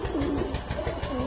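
Male pigeons cooing inside a loft, with several overlapping low, rolling coos pulsing steadily over faint background noise.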